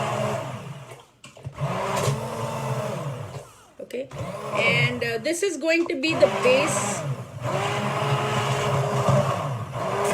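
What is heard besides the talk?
hand blender blending sauce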